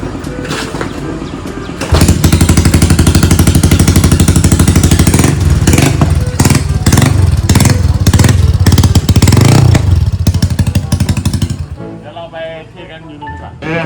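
Honda Dream motorcycle with a very loud aftermarket exhaust pipe, revving hard and close for about ten seconds, a sustained buzzing roar with throttle pulses, then dropping to a rougher, quieter idle near the end.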